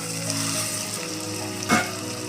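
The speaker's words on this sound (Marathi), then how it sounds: "तांदूळ घालायचं आणि थोडंसं भाजून घ्यायचं." Rice roasting in a pan for masale bhat, a dense, even sizzle heard up close, with one brief louder scrape of stirring near the end and no voices.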